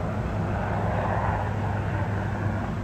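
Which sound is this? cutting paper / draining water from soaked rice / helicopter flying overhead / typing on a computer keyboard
helicopter flying overhead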